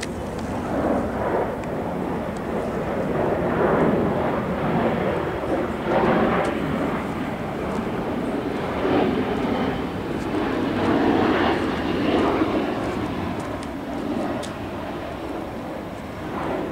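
A fixed-wing airplane passing overhead near Vila Velha, Espírito Santo, its engine drone sustained and loud for the whole stretch, swelling and easing slightly as it flies by.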